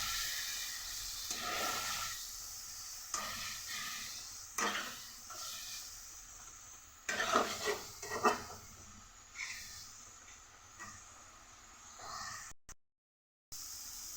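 Spice paste with turmeric and Kashmiri chili powder and a splash of water is stirred and fried in a pan, giving faint sizzling hiss broken by intermittent scraping and clinking strokes.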